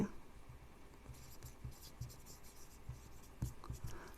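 Pen writing numbers by hand during an eighth-grade percentage math lesson, soft scratchy strokes and light taps at close range, faint and irregular, with no clear talk.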